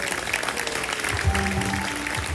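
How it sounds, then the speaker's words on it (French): Brief burst of audience applause at an outdoor summer concert in a Granby park, a dense crackle of many hands clapping at moderate distance with faint tones lingering beneath. "On les applaudit."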